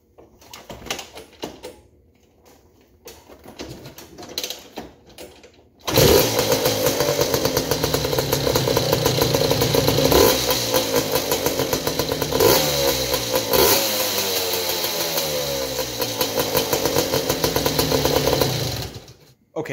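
A two-stroke quad ATV engine starts after a few quiet clicks and knocks. It then runs loud and close with a buzzing, raspy drone, revving up and down in several surges before settling.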